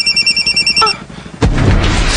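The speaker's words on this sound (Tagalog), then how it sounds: "Cellphone ko ron." A cellphone rings indoors in a Filipino drama scene, repeating tonal chirps in a steady pattern before a sudden loud broadband burst takes over near the end.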